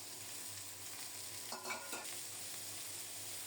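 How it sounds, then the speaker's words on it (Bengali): Chopped eggplant and pointed gourd tipped into a pan of browned frying onions and stirred: a quiet, continuous sizzle with a short burst of scraping and clatter in the middle, no voices. "এখন দেব কেটে ধুয়ে পরিষ্কার করে রাখা বেগুন আর পটল।"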